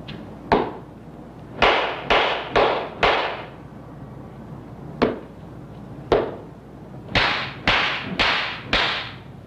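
Sharp slaps on the shoulder during Zen meditation ring out one at a time, crisp and fairly close, in irregular clusters separated by quiet pauses.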